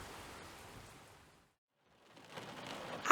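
Rain falls as a soft hiss in an audio drama, fading into silence for about a second and then returning, building louder at the end.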